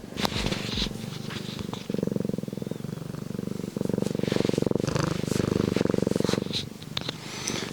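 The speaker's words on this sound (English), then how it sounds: "Do you want to hear his purr?" A cat purrs steadily and close up, a continuous low rumbling that swells and fades with each breath, with faint background noise.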